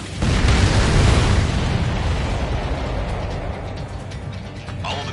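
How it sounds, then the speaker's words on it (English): Missiles being shot down in Ace Combat 7 erupt in a loud, close blast that rumbles and slowly fades into a roaring wash of debris and engine noise. "All of the missiles have been destroyed."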